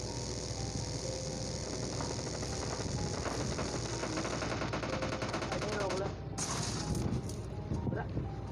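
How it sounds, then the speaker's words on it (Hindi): Automatic gunfire in the PUBG Mobile Lite battle royale game, rapid bursts crackling through a dense, constant wash of game ambience and effects, with brief voice sounds mixed in. "एक बंदा जो किसी पे फायर कर रहा था"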